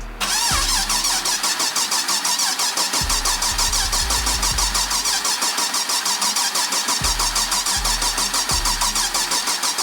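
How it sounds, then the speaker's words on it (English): A car engine on a small car fitted with a 6.2 V8 build, cranked over with injectors and coil packs removed to build oil pressure: a loud, steady rapid starter-motor churn with rhythmic compression pulses, running continuously without firing. "He's turning over to build up some oil pressure right now."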